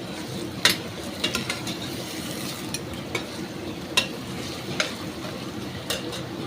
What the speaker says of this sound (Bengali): পেঁয়াজ ভাজা চলতে চলতে 4টে তেজপাতা দিয়ে দিলাম